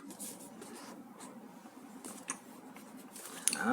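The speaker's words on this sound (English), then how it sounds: "Easily peel away the little tape." Tape being peeled off a Google Pixel 3 retail box during an unboxing: soft papery rustling and scraping, ending in a brighter, louder tearing rip, heard close and without talk.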